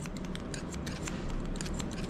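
A barber's scissors cut hair over a comb during a fade haircut, giving a quick, steady run of crisp metallic snips that are close and fairly loud, with no talk.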